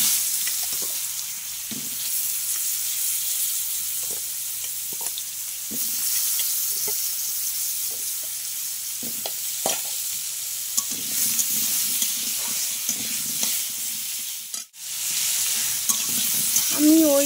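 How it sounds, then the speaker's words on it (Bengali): Potatoes frying in a small amount of oil left from frying bitter gourd, a steady close sizzle running throughout with occasional soft stirring clicks and one brief sharp knock. "আমি এই অল্প তেলেই আলুটা ভেজে নেব"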